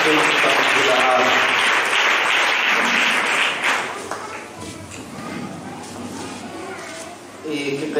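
A church congregation applauding loudly at first, the clapping fading after a few seconds into murmuring voices and scattered sounds.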